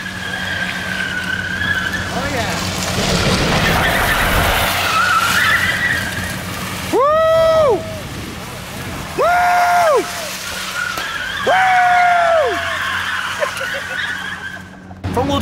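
A front-wheel-drive Honda Civic does donuts on tray slides, its tires letting out three loud, pitched squeals in separate bursts over a constant engine roar.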